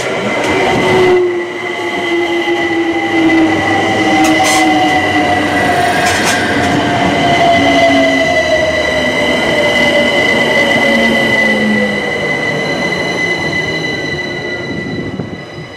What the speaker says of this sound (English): The train now approaching platform 2 is the 1836